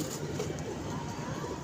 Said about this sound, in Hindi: यार क्या कबूतर है यार